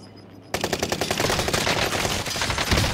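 Rapid automatic gunfire from a video game firefight breaks out after a brief quiet moment, then continues as dense, loud bursts of shots with no pause until the end.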